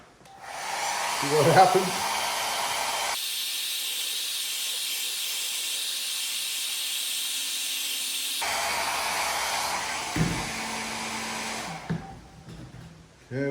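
Heat tool blowing on a Tacoma grille mod makes a strong, steady hissing whoosh that runs for about ten seconds and then cuts off, with brief talk at the start.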